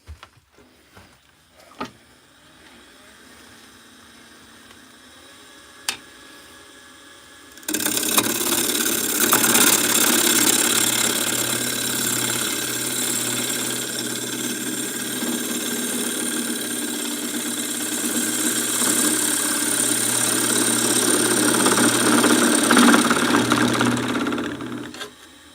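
A wood lathe turns a shallow bowl blank in a woodworking shop, starting after a quiet stretch with a few knocks and then running as a steady, loud motor whir with cutting noise for the rest of the clip.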